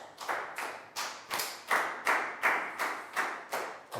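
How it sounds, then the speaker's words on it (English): Rhythmic clapping in a classroom for a pupil, a group of hands striking together in about eight evenly spaced bursts, each fading quickly, fairly close with no talking. "big round of applause for Down"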